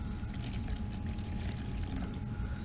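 Distilled water pours into a small Tupperware bowl, a short quiet splashing stream heard close up and alone.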